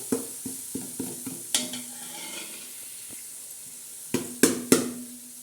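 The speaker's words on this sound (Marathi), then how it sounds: "लसण जिरे अद्रक आणि खडा मसाला हा असा आपण चांगला असा परतून घ्यायचा आहे" Ginger, garlic, cumin and whole spices are sautéed in oil for a chicken pulao, with crisp spoon clacks against the pan in quick bursts over a low, continuous sizzle.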